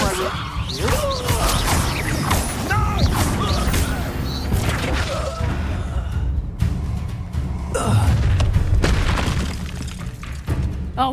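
Spell effects from Hogwarts Legacy, a levitation charm and a fire spell, burst out as loud booming crashes and whooshes amid continuous game combat noise, with voices talking over the action.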